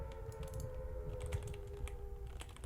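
Keys on a computer keyboard are clicked repeatedly while playing an indie horror game, giving soft, uneven taps over a quiet, humming background.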